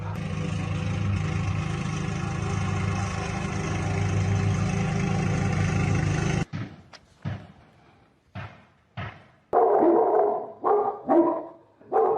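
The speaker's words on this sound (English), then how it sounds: "I would like to see the audio of the dogs barking." Dogs barking from recorded evidence footage, a run of sharp separate barks and yelps after a long stretch of steady background noise, fairly loud and close, with no talk over them.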